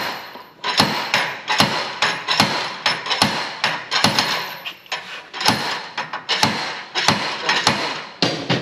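Repeated heavy blows from a five-pound hammer striking metal on a race trailer, loud and close, in an irregular rhythm of roughly a dozen hits with short pauses between.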